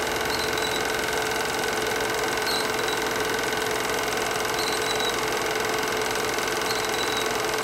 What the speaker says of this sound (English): can't hold the camera straight when you're on the tractor